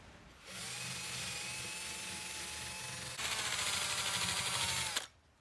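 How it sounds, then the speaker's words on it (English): A rotary wire brush, likely drill-driven, scrubs rust from the threads of hub bolts during rear wheel bearing hub replacement on a Mitsubishi Pajero Gen 4, a steady whirring grind that gets louder partway through, then stops abruptly. "I'm going to go ahead and wire brush these threads anyway to make sure that these hub bolts are nice and clean"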